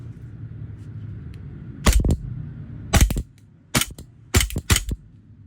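A WE Glock 35 airsoft gas blowback pistol fires several sharp, close cracks, mostly in quick pairs or clusters spaced about a second apart, above a low steady background hum.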